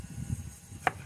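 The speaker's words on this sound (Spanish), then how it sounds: "También voy a partir el tomate. Este lo voy a partir así" A single crisp knife chop through a tomato being sliced into rounds on a board, one short sharp cut standing out against quiet low kitchen background.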